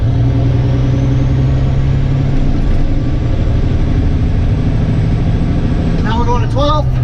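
Heavy truck diesel engine drones steadily and loud, running through skipped gear changes up the range, with a driver speaking over it and a brief squeal of higher tones near the end.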